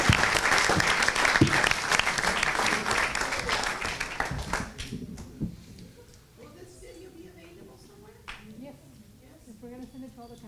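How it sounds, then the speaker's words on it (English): An audience at a McAllen ISD school board meeting applauds parent volunteers, with dense clapping for about five seconds that thins into scattered claps, followed by quieter room murmur and talking. "how about a round of applause for our parent volunteers"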